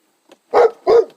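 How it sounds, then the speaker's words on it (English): A loud dog barks twice in quick succession, close by, with a faint yip just before, set in a home garage during a 2005 Pontiac G6 ignition repair. "You got a loud barking dog."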